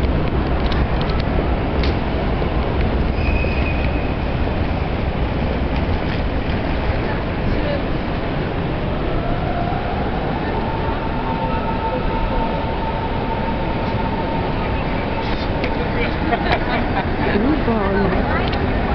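A U-Bahn subway train at Berlin Hauptbahnhof gives a steady, loud rumble with a whine that rises midway as it moves, while people talk nearby throughout.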